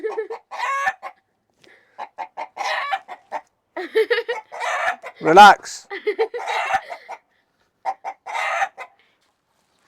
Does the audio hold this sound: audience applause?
no